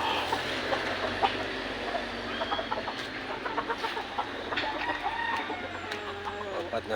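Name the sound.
stag rooster clucking in backyard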